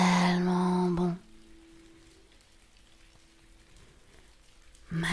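Fine, light rain falls with a faint, even hiss, framed by brief soft musical tones at the start and end.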